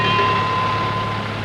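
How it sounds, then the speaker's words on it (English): Train to Adelaide, South Australia, running on 5 foot 3 inch Irish-gauge rails in 1980: a loud, steady rolling rumble with faint humming tones and no voices. "This train, which is the connection to Adelaide, the South Australian capital, runs on rails 5 foot 3 inches apart"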